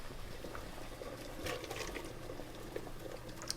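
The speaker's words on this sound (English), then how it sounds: "The potatoes have been boiling for about 20 minutes." Potatoes and cauliflower boil in a pot of water, giving a faint, steady hiss of bubbling with scattered soft pops and gurgles, heard alone without talk.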